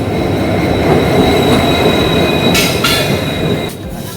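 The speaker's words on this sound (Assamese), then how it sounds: "এতিয়া আমাৰ ট্ৰেইন আহি গ'ল।" A passenger train runs loudly along the rails close by, with a steady rolling rumble, wheel hiss and brief high squeals, and no voices.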